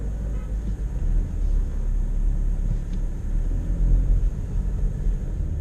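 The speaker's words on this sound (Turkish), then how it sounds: "Direkt gaza sonuna kadar basacağım arkadaşlar." An Audi A3 fitted with a Sprint Booster, with the driver holding full throttle, gives a continuous heavy low engine rumble and road drone heard from inside the cabin, steady and fairly loud with no talking.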